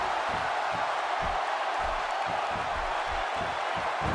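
A steady, broad roar of a large arena crowd in the wrestling video game WWE 2K16 fills the background, with muffled thumps from the ring repeating irregularly underneath.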